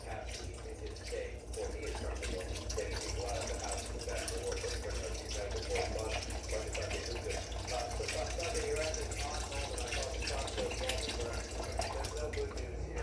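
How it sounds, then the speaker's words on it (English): Water pours steadily into a crock pot of pinto beans, a continuous close splashing rush that runs unbroken for the whole stretch. "So I'm going to put a little more water in here."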